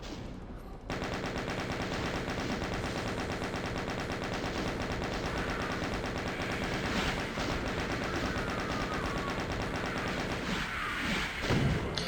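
Rapid, sustained chaingun fire from Doom Eviternity II, a dense unbroken mechanical rattle of shots starting abruptly after a brief quiet moment and continuing loudly, with some impact thuds near the end.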